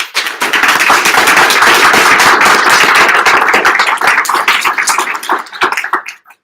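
An audience gives student speakers at a graduation ceremony a round of applause: dense, loud clapping that holds steady for several seconds, then thins to scattered claps and fades out.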